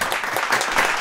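A brief, moderately loud burst of audience applause for a mimicry artist's stage performance, dense clapping with no voice over it.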